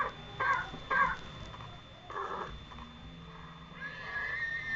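Horse neighing in Minecraft, several short whinnies in quick bursts at moderate volume over a low game background, with a longer whinny near the end.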